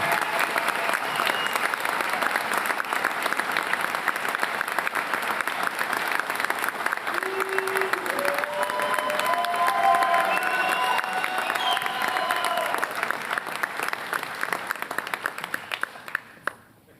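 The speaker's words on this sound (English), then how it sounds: "Let's have a round of applause for our second squad." A large audience at a police academy graduation gives sustained applause with scattered cheers. The clapping is dense and steady throughout, a few voices call out over it, and it dies away at the end.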